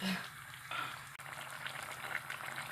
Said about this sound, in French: ça commence à bouillir